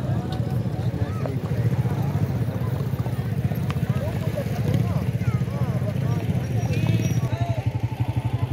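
Horses' hooves pound in a fast, continuous rhythm during a horse race, half buried under loud crowd roar and voices talking throughout.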